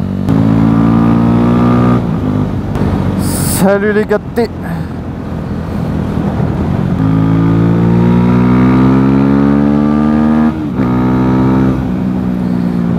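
Cars and motorcycles pass on the Mont Ventoux road, engines revving loudly and rising and falling as they go by close up, while someone talks over the traffic.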